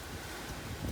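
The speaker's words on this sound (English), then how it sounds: "It's extremely windy outside today." Strong outdoor wind buffeting a microphone, a low, rumbling, gusty roar that stays fairly quiet and steady with a slight swell near the end.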